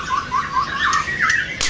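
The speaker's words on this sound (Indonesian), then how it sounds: "Ini kenari." A canary sings up close in a series of bright, repeated chirps and rising and falling whistled notes, with a few sharp high calls toward the end.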